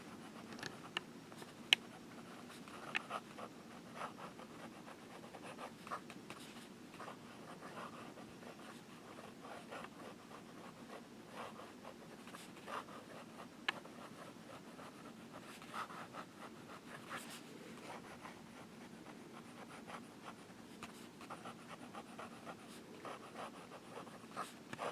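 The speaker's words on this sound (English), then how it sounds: "reverse writing" A Waterman 748 fountain pen with a fine nib is drawn upside down across paper, giving a faint, continuous scratchy whisper with small ticks, quiet and close, with no voices.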